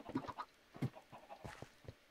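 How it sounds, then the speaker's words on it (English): Chickens cluck in the Vintage Craft video game, a few short, soft clucks and squawks scattered over about two seconds with no talking. "So these chickens right here, these are the chickens that didn't make it in the past life"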